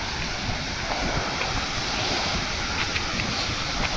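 Heavy rushing water from the giant lift pumps at Mallanna Sagar reservoir, a dense, steady roar filling the whole clip with no pauses and some wind buffeting the microphone.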